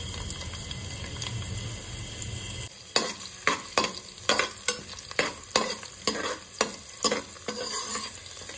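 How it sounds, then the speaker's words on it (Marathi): Onion frying in a pressure-cooker pan for green peas pulao, a loud steady sizzle joined halfway by a regular run of sharp spatula strokes, about one per second, close up. "कांदा एकदम ब्राऊन होईपर्यंत आपण ह्याला तळून घ्यायचंय।"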